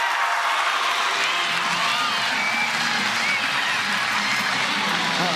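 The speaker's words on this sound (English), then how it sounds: "Little roar of the crowd for that defensive web" Crowd noise swells at a women's professional softball game after a hard-hit ball is scooped up at third base for an out, a steady broadband roar with scattered cheers and claps under distant voices.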